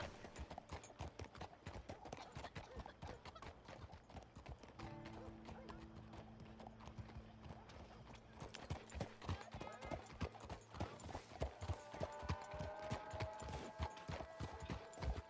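Galloping horse hooves in Red Dead Redemption 2 drum a fast, steady clip-clop rhythm for the whole stretch, with a low background tone entering midway and the hoofbeats growing louder toward the end.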